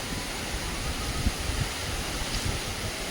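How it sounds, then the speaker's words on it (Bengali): Strong wind blows by a river at full high tide outdoors, a dense, loud, steady rush of gusting air and buffeting against the microphone, with no voices. "দারুণ হাওয়া হচ্ছে"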